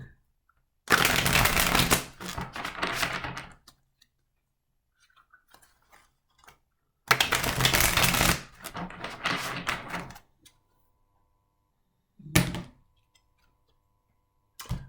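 Tarot cards being shuffled by hand: three bursts of dense riffling and slapping, two long ones a few seconds each and a short final one, close and crisp with quiet pauses between.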